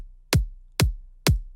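Three punchy kick drum hits from a music production sample, evenly spaced about half a second apart, each a sharp attack dropping into a booming low tail, clean and alone.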